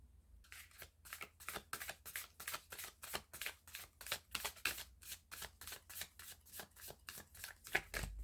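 Tarot cards are shuffled and drawn in a quiet room, making soft, rapid, evenly spaced flicks and snaps, about three per second, faint and close, with no talking.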